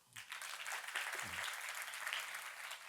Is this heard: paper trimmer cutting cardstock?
no